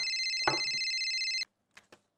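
A mobile phone's ringtone sounds steadily and close for over a second in a home scene from a Marathi TV serial, broken by a brief knock, then cuts off, followed by a couple of faint clicks.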